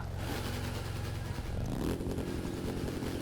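Yellow Harley-Davidson motorcycle engine in the racing game The Crew 2, a steady low rumble that shifts pitch partway through as the bike revs, loud and continuous with no talk.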